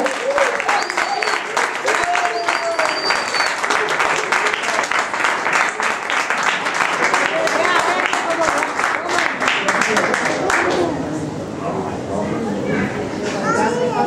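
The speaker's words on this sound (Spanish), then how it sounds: "Un fuerte aplauso para Cristo." A live audience at a Christian music show applauds loudly and continuously, with cheering voices mixed into the clapping before it fades slightly near the end.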